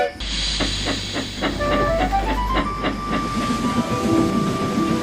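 A cartoon steam train sets off from the station, with a loud steam hiss and puffs, a rhythmic chuffing, and a deep rumble underneath as it moves away.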